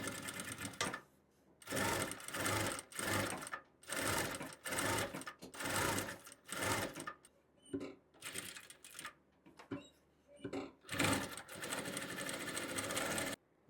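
Sewing machine stitching a fabric strap for a water bottle holder, close rapid whirring bursts in several runs separated by short pauses.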